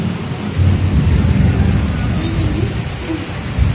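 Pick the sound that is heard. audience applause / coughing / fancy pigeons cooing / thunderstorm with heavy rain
thunderstorm with heavy rain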